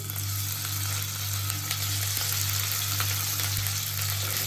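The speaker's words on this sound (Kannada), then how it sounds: "ಎಣ್ಣೆ ಬಿಸಿ ಆಗಿದೆ. ಇವಾಗ ನಾನು ಕಟ್ ಮಾಡಿರುವಂತ ಪನ್ನೀರ್ನ ಹಾಕೊಳ್ತಿದ್ದೀನಿ." Cut paneer cubes shallow-frying in hot oil, giving a steady, even sizzle and crackle that runs unbroken throughout over a low background hum.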